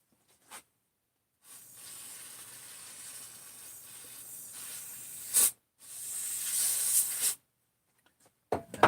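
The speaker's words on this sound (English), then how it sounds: "It's actually a used OEM gasket that I think I'm going to hit with some brake cleaner." Brake cleaner sprays from an aerosol can onto a used OEM gasket during a cylinder cleanup, giving two long, close hissing bursts with a short pause between them and a few brief puffs around them.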